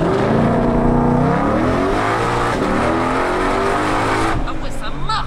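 A 771-horsepower Ford Mustang Shelby GT500 accelerates hard, its engine roar climbing steadily in pitch, loud and close from inside the car, with voices faintly under it.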